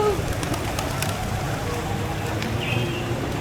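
Pigeons and other birds call around a place of worship in Semarang, soft coos and chirps scattered over a steady outdoor background, with a brief voice and faint bird notes throughout.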